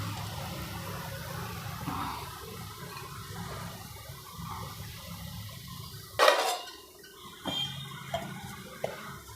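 A lid is set down onto a pan of potatoes cooking over low gas, giving one sharp clink partway through, followed by a few softer knocks over a steady background hiss.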